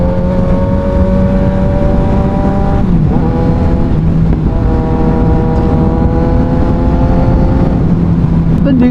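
Kawasaki Ninja 1000 motorcycle ridden in sports mode, its engine loud and close with a steady droning roar that climbs in pitch through repeated gear pulls, dipping briefly at each shift.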